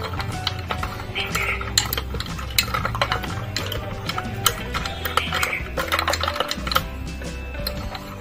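A spoon clinking and scraping against a glass while stirring an orange mocktail with black salt and chaat masala, a fast irregular run of bright taps close up, with faint voice in the background.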